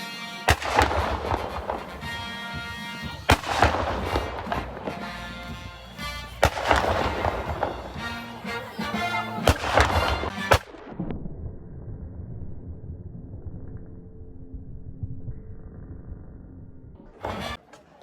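Gunshots at an army reserve show ring out as loud, sharp single reports with echoing tails, spaced a few seconds apart, then a quieter stretch of low rumble before one more distant crack near the end.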